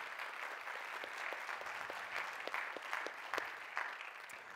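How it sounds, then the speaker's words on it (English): An audience at an LPG industry forum roundtable applauds the panel with steady, moderately quiet clapping and scattered sharper individual claps. "a big round of applause to our whole panel"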